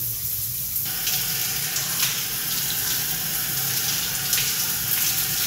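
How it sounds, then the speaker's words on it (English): Shower water runs steadily in a parking lot setting, a continuous close hiss of spray with no voices. "Found a shower here, there's one here."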